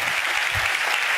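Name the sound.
congregation clapping in praise of God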